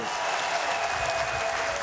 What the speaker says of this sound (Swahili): Makofi mengi kwake.